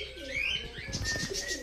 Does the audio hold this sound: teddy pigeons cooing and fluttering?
yes